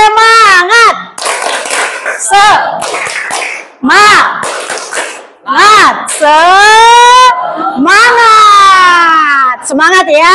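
A school class does a spirit clap, with children chanting loudly together in a rhythmic group cheer punctuated by bursts of clapping, close and energetic throughout.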